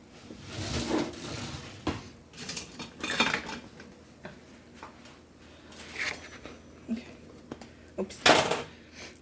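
A baked biscuit is pried from a metal pan to be plated, with scraping, clinks and knocks of utensil against pan arriving in irregular bursts, close and moderately loud.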